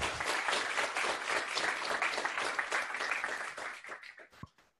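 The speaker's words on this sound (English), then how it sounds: "Let's give Mark a round of applause." Audience applause for Mark after a GraphQL talk, a dense wash of many hands clapping steadily before thinning into a few scattered claps and fading out.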